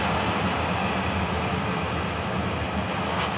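A loud, continuous roar of Florida East Coast Railway train 204 passing close by, a dense steady rumble with no pauses and no voices.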